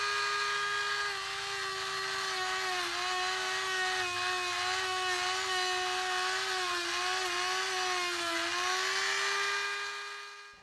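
An electric rust-removal polishing machine works on iron, whirring with a high, steady tone that dips slightly under load, running continuously before spinning down at the end.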